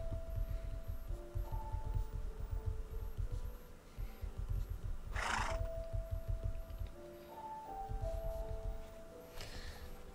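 Horses in a video game snort and whinny softly while being groomed, over a steady rhythmic low thumping and occasional brief rustling bursts, with faint tonal game sounds and no speech.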